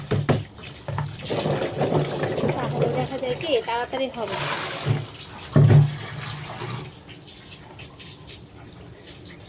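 A kitchen tap runs water steadily as garlic pickle ingredients are washed at the sink, with splashing that changes as things move under the stream while someone talks over it.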